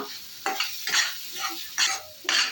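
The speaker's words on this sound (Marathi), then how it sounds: "हे दोन तीन मिनिट आपल्याला परतून घ्यायचं आहे तेल सुटेपर्यंत" Prawn masala paste sautés in oil over a low flame, close spoon strokes scraping the pan in four or five bursts over a soft sizzle, with no talking.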